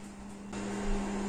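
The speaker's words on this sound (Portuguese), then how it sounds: "Se vocês ouvirem um barulho, é do micro-ondas. Tá descongelando a mistura." A microwave oven hums steadily while defrosting a mixture in a home kitchen, a low continuous drone with a slight shift in tone partway through, with no voices.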